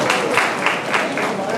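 Applause from a seated crowd at an engagement ceremony, approving the couple's engagement, a dense steady patter of many hands that holds at even strength for the whole stretch, with a few louder surges and voices mixed in underneath.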